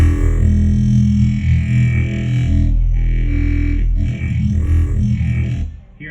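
A Serum synth wavetable morphs smoothly across frames, giving a dense, distorted sustained tone that swells and shifts continuously, with a few softer dips near the end.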